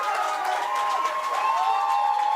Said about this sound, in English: giving a sarcastic applause to the umpire for calling a strike